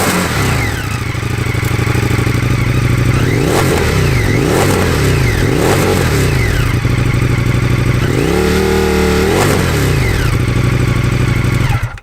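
An Indian FTR motorcycle fitted with a valved Jekyll and Hyde exhaust idles with a deep bass note, then is revved hard in several sharp bursts and one longer swell, loud and close, with no talking.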